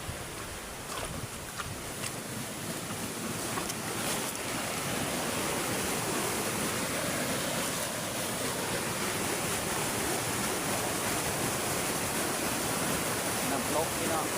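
Water in a mountain stream rushes steadily, a continuous broad hiss and roar that is close and moderately loud, with a few faint clicks near the start.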